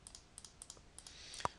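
Computer keyboard keys are pressed at a desk during 3D modeling work, a few faint, light clicks spaced irregularly, ending in one slightly louder tap, with no talking.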